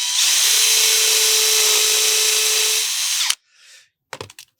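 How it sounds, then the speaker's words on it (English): A power drill whines steadily at high speed for about three seconds drilling pilot holes in a flood barrier rail, then cuts off abruptly, followed by a few brief clicks and knocks. "I'm now going to just pilot these, pop the drill in"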